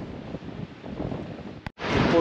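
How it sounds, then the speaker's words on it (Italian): Strong cold wind sweeps over the open cliffs of Cape Sagres by the Atlantic, a steady roar of gusts and buffeting with surf in the background. The wind briefly drops out, then comes back louder and closer. "ventosissimo, anche abbastanza freddino perché il vento qua passando sul mare ovviamente si rinfresca"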